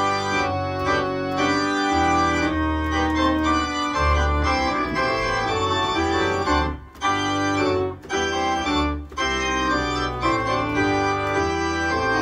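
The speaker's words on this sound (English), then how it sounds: "there's also a lovely piece by a German composer called Karg Alert" Karg-Elert's chorale setting of Nun Danket (Now Thank We All Our God), a piece often used for a wedding entrance, plays loud and sustained with rich chords and a couple of brief pauses, and no talking.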